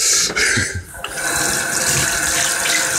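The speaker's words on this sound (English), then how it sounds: "I'm going to wash the flour off my hand." Tap water runs steadily from a faucet into a sink while flour is rinsed off a hand, a close, continuous rushing splash with a brief dip in flow about a second in.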